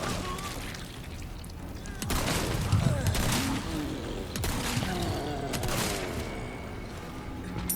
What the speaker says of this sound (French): Il est hyper efficace, hein, le fusil à pompe là.